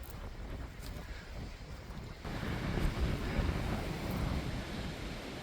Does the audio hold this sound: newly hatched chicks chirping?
no